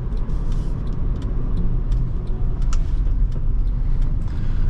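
A 2010 Honda Accord EX-L V6 on the move gives a steady, deep engine drone with road rumble heard from inside the cabin, loud and continuous with faint clicks on top.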